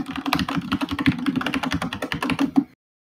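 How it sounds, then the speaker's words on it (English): Fast, steady typing on a computer keyboard, a dense run of close, crisp key clicks lasting under three seconds before the sound cuts off to silence, with no voices. "I hear too much keyboarding."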